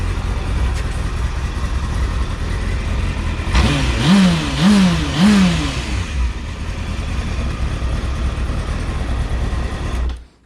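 A Honda Hornet 600 motorcycle engine idles steadily nearby, then revs three times in quick succession before settling back to a rough idle that cuts off.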